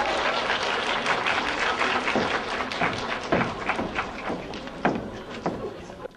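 A crowd at actor Yuya Yagira's fan event in Korea applauds steadily for several seconds, dense clapping with a few louder claps standing out, close and continuous.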